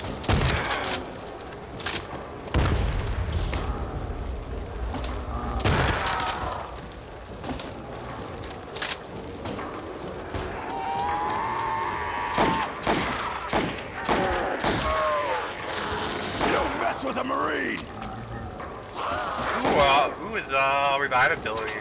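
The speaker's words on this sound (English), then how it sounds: "Grenade!" Grenade blasts and gunfire in a realism-mode Nazi Zombies video game: a string of heavy thumps and sharp bursts, some close and loud, with a voice talking in between.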